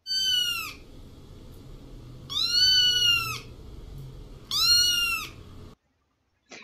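A pet cat meows three times, each call loud, drawn-out and rising then falling, spaced a couple of seconds apart over a low background hum, followed by a brief silence.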